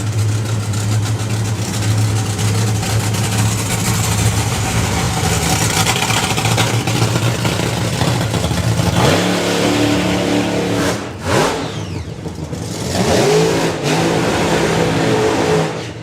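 Two drag racing funny cars, one nitro-fuelled and one methanol-fuelled, race side by side past the tower at a drag strip, their loud engine roar holding steady and then surging and fading in pitch sweeps as they pass.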